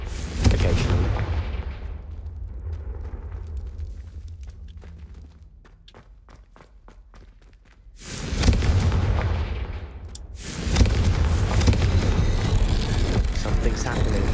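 Confringo blasting-spell explosions in Hogwarts Legacy: a loud burst of booming blasts, a quieter stretch of sharp crackling pops, then further heavy explosive rumbles continuing to the end.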